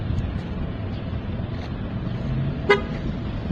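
A single short, sharp beep sounds from a car as it locks itself automatically when the owner walks away, heard once against steady outdoor background noise.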